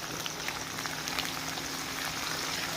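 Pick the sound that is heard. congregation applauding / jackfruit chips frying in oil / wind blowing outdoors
jackfruit chips frying in oil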